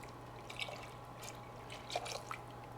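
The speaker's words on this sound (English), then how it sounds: "In goes the whiskey off the heat." Whiskey is poured off the heat into a honey mustard onion glaze in a pan, a faint close trickle and a couple of small drips over quiet kitchen hum.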